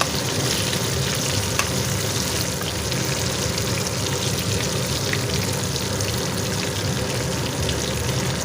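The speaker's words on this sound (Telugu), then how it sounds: "ఇట్లా ఫ్రై చేసుకుంటాం." Stuffed brinjal masala frying in a pan on medium to low heat, a dense, steady, close sizzle that holds evenly throughout with faint crackles and no talk.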